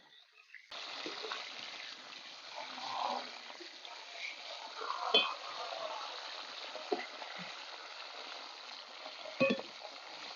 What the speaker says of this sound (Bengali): তেল গরম হয়ে গেছে, এবার পটলগুলো আমি ভেজে নেব।